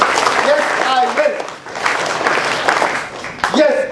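An audience at a leadership training session applauds in a loud, steady burst of clapping, with voices calling out over it.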